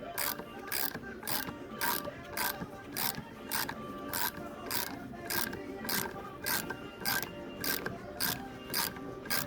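A part being threaded in to pull out the cylinder of a Powerball gyro toy gives a steady, close ratcheting click-whir that pulses in a regular rhythm about twice a second, with no talk.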